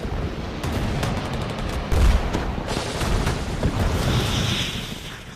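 Wartime documentary footage of artillery firing on the Thuận An estuary during the Ho Chi Minh Campaign. Dull booms and bursts of gunfire crack over a continuous battle roar, with one heavier thump near the middle.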